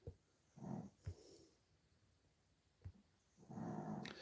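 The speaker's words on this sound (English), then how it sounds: "The pug is snoring." Close, quiet snoring from a pug, with three raspy inhale snores and brief snorts in between, a slow, uneven rhythm and no voices.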